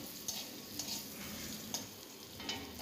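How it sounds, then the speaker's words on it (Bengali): Jackfruit seeds with salt and turmeric frying in a pan, a soft continuous sizzle punctuated by several light scraping stirs at irregular intervals, fairly quiet and without speech. "নুন হলুদ দিয়ে এবার কাঁঠালের বীজগুলো আমি ভালো করে ভেজে নেব"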